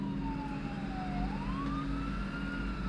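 A siren wails steadily, its pitch dipping then rising again, heard from some distance over a constant low rumble.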